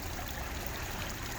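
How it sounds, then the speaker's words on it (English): Water from a small three-tiered waterfall at Chula Vista splashes and trickles in a steady, soft hiss with no other sounds. "we are at Chula Vista, and this is three waterfalls"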